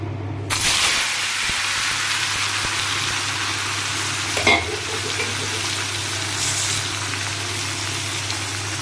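Boiled potatoes coated in salt and turmeric hit hot oil in a kadai with a sudden loud sizzle that settles into a steady, close frying hiss, with a brief stirring flare midway.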